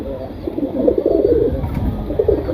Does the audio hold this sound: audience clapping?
no